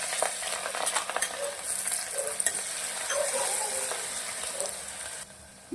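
Onion with garlic and green chillies fries steadily in a pan, a continuous close sizzle punctuated by scraping stirs of a spoon, with no talking, ending in a brief quieter moment.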